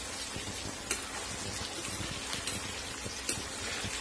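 Chicken pieces for Pallipalayam chicken roast fry in hot oil in a pan, a steady dense sizzle with occasional sharper pops and crackles, close and continuous with no voices.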